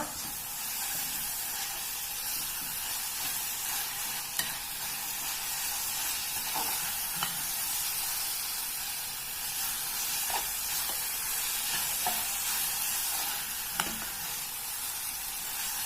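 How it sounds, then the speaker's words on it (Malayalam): Onion, ginger and garlic sautéing in a pan for pepper chicken curry make a soft, steady sizzling hiss lasting well over ten seconds, with a few faint clicks of stirring and no voices. "ഇനി അതിലേക്ക് നമ്മൾ എടുത്തു വെച്ച ഇഞ്ചി വെളുത്തുള്ളി ഇട്ട് കൊടുക്കുക. അതും ഒന്ന് നല്ലോണം വഴറ്റുക."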